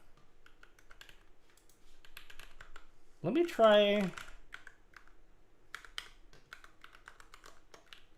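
Custom Daring Run DR70F mechanical keyboard being typed on in scattered bursts of crisp, close clicks, interrupted partway through by a short spoken phrase before the tapping resumes.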